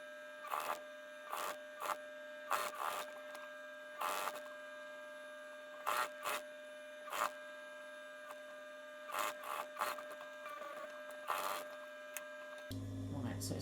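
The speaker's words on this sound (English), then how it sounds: "Now stitch close to the edge," A sewing machine stitches around the edge of a homemade fabric face mask, running in short repeated bursts of clattering needle motion with brief pauses between runs, fairly quiet and close.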